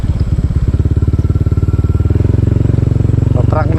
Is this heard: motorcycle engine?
yes